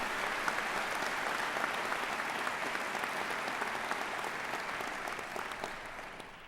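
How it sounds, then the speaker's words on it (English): A graduation ceremony audience at Grantham University's 2012 commencement gives the faculty sustained, dense applause, steady throughout and slowly fading at the end. "I would like you to give the faculty for Grantham a round of applause also"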